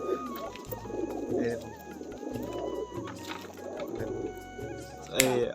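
Pigeons in a breeding loft of high-flying birds, including King and Lotan varieties, give repeated low, throaty coos in short rolling bursts. They sound close and overlap with people talking and a brief sharp sound near the end.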